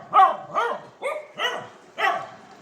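A dog barks five times in quick succession, loud and close, each bark short and evenly spaced against a quiet background.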